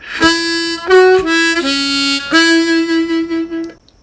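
An old-time tune phrase on harmonica, played slowly as a run of sustained reedy notes that bend and shift pitch in a steady, unhurried rhythm, close and loud with no talking.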